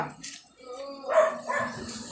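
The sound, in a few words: guard dog barking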